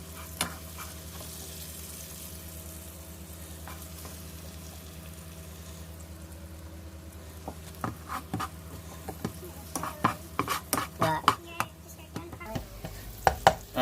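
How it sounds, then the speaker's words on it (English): Green peppers tossed into roast beef and stirred, giving a steady low hiss of cooking with scattered scraping and clacking strokes that build up and grow busier toward the end, with no voices. "I'm gonna add the green peppers and all that to the roast beef now"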